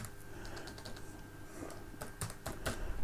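A computer keyboard gives quiet, quick key taps at an irregular pace while a short command is typed, ending in a few firmer strokes, close up and faint against a low steady hum.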